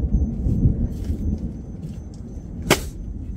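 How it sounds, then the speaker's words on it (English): Thunder rumbles low and continuous over steady rain at a rainy solo campsite, with one sharp crack standing out near the end against the ongoing patter. "because it's still raining and it's thundering and it's lightning up there"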